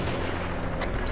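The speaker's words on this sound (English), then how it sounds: "Oh, shots fired." Gunshots in a video game police roleplay, a short dense rumble of shots and booms layered over steady engine and game noise, with a brief sharper crack near the end.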